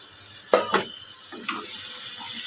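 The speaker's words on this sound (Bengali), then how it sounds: "আমি এবার বাকি নারকলের দুধটা দিয়ে দিচ্ছি" Coconut milk is poured into a pan of cooked masala for a prawn curry, giving a couple of soft splashes and a brief gurgle before a steady bubbling hiss takes over, close and moderate.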